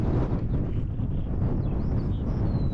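Constant gusty wind rushing across a mountain fell summit on the Kentmere Round, buffeting the microphone in a loud, steady low roar with no talking.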